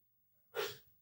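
A single short sneeze, sharp and breathy, fairly close against a quiet background.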